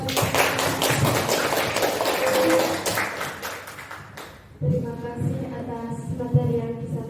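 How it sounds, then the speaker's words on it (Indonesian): Audience applause at a teachers' seminar on positive school culture: dense, steady clapping fills the room for several seconds, then fades into softer murmuring and scattered sounds. "Tepuk tangan buat kita semua."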